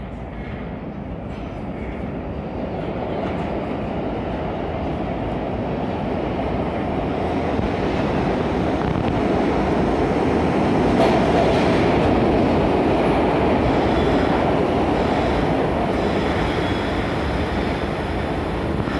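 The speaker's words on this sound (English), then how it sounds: "This is the Southbound Orange Line Express to Walnut Locust." A SEPTA Broad Street Line southbound express subway train runs with a loud, steady interior rumble and rattling wheel noise that builds slightly and continues without pause.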